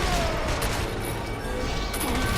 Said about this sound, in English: Use my upgraded machine gun.